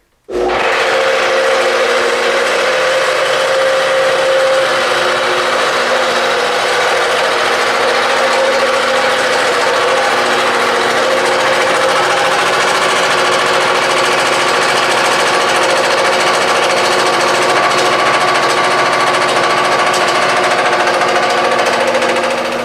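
An air compressor with an empty tank kicks on abruptly and pounds away loudly and continuously, a harsh rattling mechanical drone that holds steady without pause.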